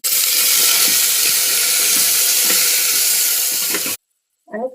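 Water is poured into a pressure cooker holding drumstick pods sautéed in oil with cumin and turmeric. A loud, steady stream runs for about four seconds, then stops abruptly, leaving brief faint sounds.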